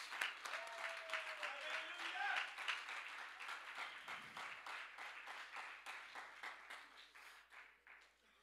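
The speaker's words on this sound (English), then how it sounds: "Clap your hands one more time" A church congregation claps hands together during a Sunday sermon service, a dense, sustained round of applause with rhythmic claps and crowd noise that tapers off slightly toward the end.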